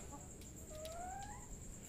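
A single soft, rising chicken call sounds once at night against a steady hiss and hum, faint and brief.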